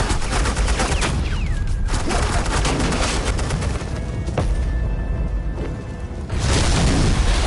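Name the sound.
suppressing gunfire in the Batman: The Enemy Within video game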